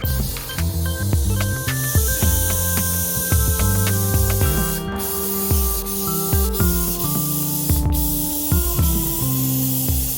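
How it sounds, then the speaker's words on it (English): Adhesive sprays onto the back of a rug and a piece of felt in a steady, continuous hiss beneath louder background music, with a couple of short, sharper bursts. "I'm gonna spray all of this all over the back of the rug and a little bit on this side of the felt."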